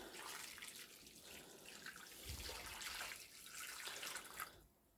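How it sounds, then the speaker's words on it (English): Chicken stock pours and splashes into a slow cooker for a few seconds, quiet and close, with gurgling surges before it trails off. "2 pints of chicken stock going in"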